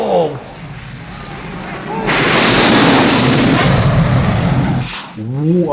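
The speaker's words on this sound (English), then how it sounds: "Holy explosion." Huge movie explosion in the 1983 James Bond film Octopussy erupts suddenly as a loud, sustained roaring blast lasting a few seconds, framed by excited reactions from a nearby viewer before and after.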